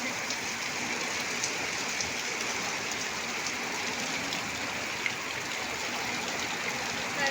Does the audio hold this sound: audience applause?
no